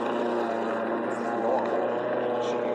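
An Ego Power Plus electric mower bogs down in thick grass over a septic drain field, giving a steady close motor drone with a voice faintly over it.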